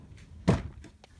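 A drawer built into a bed is pulled open, giving a single short, dull wooden thunk in an otherwise quiet room, followed by faint soft rustling.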